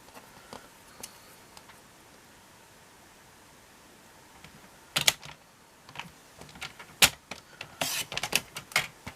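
Card stock sliced on a paper trimmer (massicot) while making a mileage card, a few sharp crisp cuts and clicks near the end after a quiet stretch, close and fairly soft.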